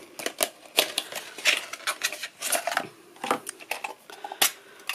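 A Prima Vintage Pastel watercolor palette is opened, making a quick run of sharp, close plastic clicks and light clattering taps. No one speaks.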